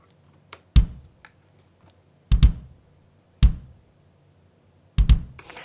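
Acoustic kick drums from Logic's Indie Live kit thump on their own, four deep booming hits in an uneven triplet-feel rhythm with faint ticks in between.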